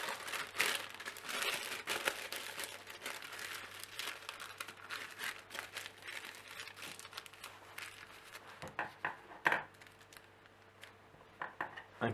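Baking paper is folded for a quiche form, giving faint, irregular crinkles and crackles in scattered bursts, with a few sharper rustles near the end.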